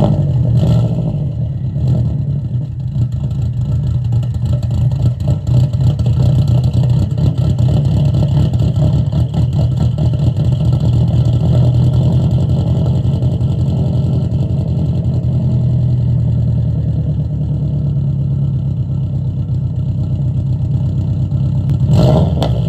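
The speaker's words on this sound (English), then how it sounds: "hear my car start." A 2.5-swapped Subaru Bugeye WRX with a turbo cranks and fires up, then keeps running steadily with a loud, close, rumbling boxer-engine drone and slight revving fluctuations throughout, with no talk.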